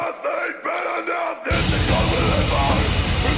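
Someone screams in a metal song, loud sustained yelling that gives way after a moment to a dense wall of heavy band sound.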